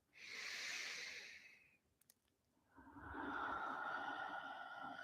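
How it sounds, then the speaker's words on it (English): A deep, slow inhale followed by a long, clearing exhale during a guided relaxation at the close of a puja and satsang, breathy and close, with a brief pause between the two breaths. "And one more deep and clearing breath."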